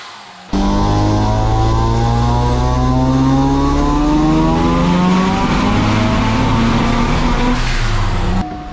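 A rotary-engined Corvette on a dyno holds a loud, buzzing high-revving drone that climbs steadily in pitch for several seconds, close and constant, with no voices.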